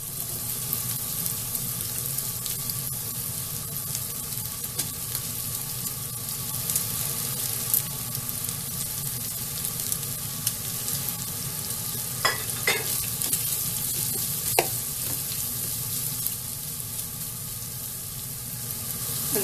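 Chopped garlic and spring onion fry in a hot pan, giving a continuous loud sizzle with stirring scrapes and a few sharp utensil clicks, and no talking.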